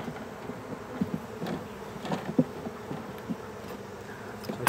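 Bees buzzing near and around a hive during beekeeping, a steady insect drone with brief louder passes as individual bees fly close.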